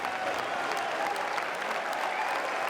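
Sustained audience applause on the Cannes red carpet for an Italian film director, a dense steady clatter of many hands kept up evenly and fairly loud, with faint crowd murmur underneath.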